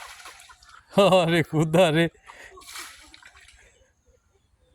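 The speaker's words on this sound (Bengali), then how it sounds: "দেখুন পানি সেচার স্টাইল কি।" Water is bailed out by hand with a few soft, faint splashes and sloshes, mostly after a man's loud exclamation that fills the middle of the clip.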